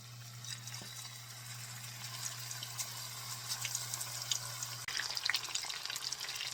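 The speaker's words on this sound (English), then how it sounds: "I want to fry it individually like this, each pieces" Chicken pieces frying one by one in a pan for teriyaki, a steady soft crackle and sizzle with a low constant hum underneath, briefly intensifying near the end.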